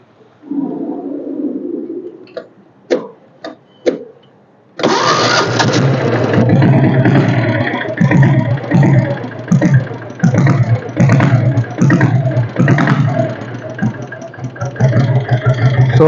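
A few short clicks and taps, then a vintage Royal Enfield Bullet diesel motorcycle engine self-starts and settles into a loud, steady, thumping idle.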